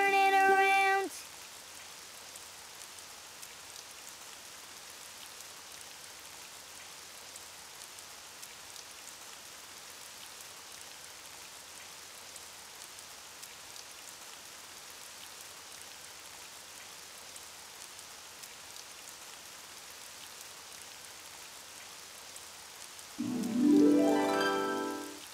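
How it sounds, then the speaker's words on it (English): Steady rain falls outside in a Spanish-language Daniel Tiger children's cartoon scene, a soft, even hiss lasting over twenty seconds, with short bursts of music at the start and end. "It's raining outside."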